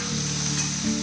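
Chopped tomato sautéing in a pan alongside half-cooked ingredients for a drumstick dish gives a loud, steady sizzle throughout, close and continuous with no voices.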